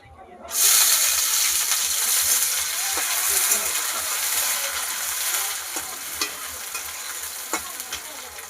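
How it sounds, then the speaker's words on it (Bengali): Sugar frying in hot oil in a home kitchen pan, a loud steady sizzle starting abruptly after a brief quiet moment and holding broad and dense, with faint stirring clicks scattered through it. "তেলের ওপর চিনি ফেলে দিলাম।"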